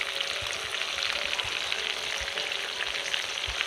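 Ground spice paste with nutmeg, mace, cumin, dried chilli, garam masala, bay leaf and tomato ketchup fries for chicken curry, giving a dense, steady close sizzle with occasional soft stirring taps.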